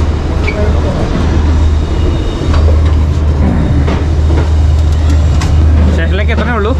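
Train rolling on rails as it slows toward a station, a steady low rumble with faint rhythmic clatter throughout, close and continuous, with people talking over it.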